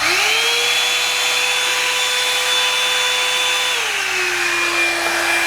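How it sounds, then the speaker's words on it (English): A Revlon hair dryer running on low, whirring steadily nearby with a constant airy hiss and a motor whine that shifts lower partway through. "then I'm gonna go in with the blow dryer"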